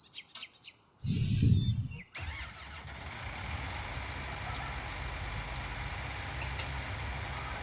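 A tractor engine in Farming Simulator 19 cranks briefly, then settles into a low, steady idle rumble, with faint bird chirps in the background.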